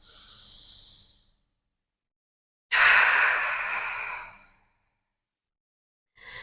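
A pilates instructor lets out a long, deep, breathy exhale during a beginner mat workout, with a softer breath before it and another starting at the end, close and clear with no talking.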